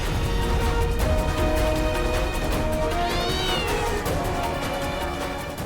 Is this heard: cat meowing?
yes